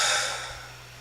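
A long, breathy exhale through the mouth, close and fairly loud at first, then fading steadily into quiet within about a second.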